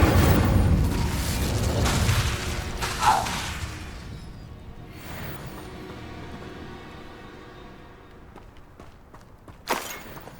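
Incendio fire spell cast in Hogwarts Legacy, a loud whooshing burst of flame and impact that fades into a low rumble, followed by a sharp crack and a brief flare near the end.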